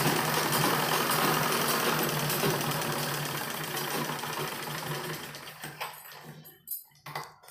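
A sewing machine runs in a steady, fast mechanical whir while stitching a cloth kitchen apron, then slows and breaks into short stop-start bursts before going quiet.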